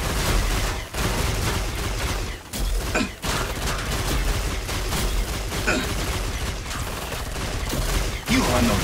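Killing Floor 2 boss fight on Hell on Earth difficulty, with dense sustained gunfire bursts and heavy mechanical clatter filling the whole stretch, broken by a few brief pauses.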